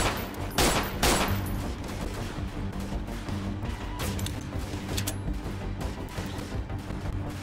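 Sustained gunfire in the guerrilla war game Freeman Guerrilla Warfare: a dense, continuous fusillade of overlapping shots, loudest in sharp bursts near the start, then a steady crackling volley throughout with no talking.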